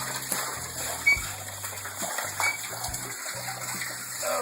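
Water from a bucket drains into a drain in a Ukrainian country house garden, a steady gushing, splashing flow running close and continuous.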